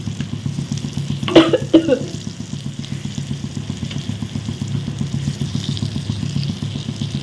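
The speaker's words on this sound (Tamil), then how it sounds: "பொறுமையாக வறுத்துடுங்க" Eggplant fries in hot oil for a kuzhambu, giving a constant close sizzle with a steady stirring rhythm and a couple of brief louder scrapes near the start.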